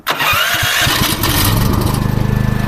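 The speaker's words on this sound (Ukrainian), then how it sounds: "Генератор завівся з пів оберта." Champion CPG9000E2-EU 9.3 kW petrol generator with an automatic motorized choke starting up: a loud crank-and-catch burst, then the engine quickly settles into a steady, rhythmic chugging idle close by.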